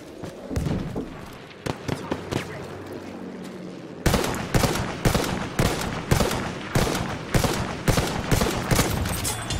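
Dense gunfire from a Battlefield 1 Conquest match on Xbox One. Sporadic shots at first, then loud, rapid volleys crack in quick succession, with no talking.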